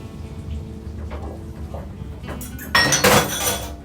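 Omelette eggs going into a hot pan for a Michelin-style omelette with grated parmesan, a quiet clink of utensils followed by a sudden loud sizzle that persists to the end.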